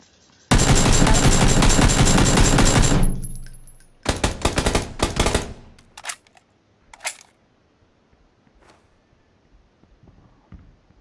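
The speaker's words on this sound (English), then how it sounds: "Shoot as soon as they go by." Gunfire in the battle royale game PUBG: a dense burst of rapid automatic shots for about two and a half seconds, then scattered loud shots and short volleys that thin out into quieter isolated cracks.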